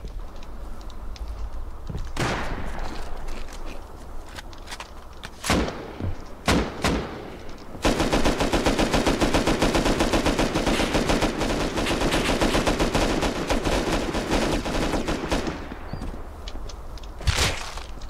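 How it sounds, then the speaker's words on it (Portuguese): Gunfire in Rust: sparse single shots and short bursts early on, then a long, loud, dense stretch of rapid automatic fire, ending with a few sharp close reports. "O cara tá atirando, velho."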